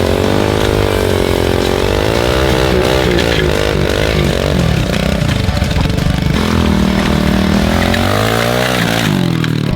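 A motorcycle ridden without a tyre, its engine loud and raw, revving and shifting pitch continuously, with grinding rim noise close to the listener and no talk.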